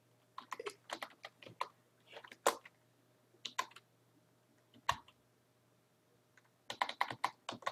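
Computer keyboard keys clatter in quick bursts of clicks with short pauses between them, close and fairly clear over a faint steady hum, while someone types in an email program.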